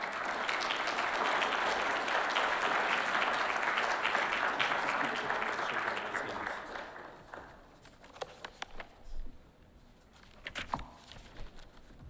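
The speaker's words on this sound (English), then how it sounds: "So how about everybody give them a round of applause" Audience at a Boy Scout troop's Eagle Scout court of honor applauding steadily for about six seconds, then fading to scattered claps and footsteps on a wooden stage.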